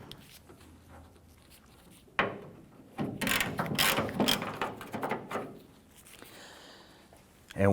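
Ratchet loosening the tailgate hinge bolts on a Ford Ranger, producing a burst of close, quick clicking and metallic rasping in the middle of the clip, with quieter handling noise before and after.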